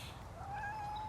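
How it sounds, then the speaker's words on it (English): A cat meows once, a soft, drawn-out rising cry heard fairly close against quiet outdoor background, with no voices. "Hello, kitty. I don't know you. This is a new one. Are you nice?"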